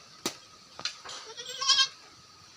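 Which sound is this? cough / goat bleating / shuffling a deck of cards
goat bleating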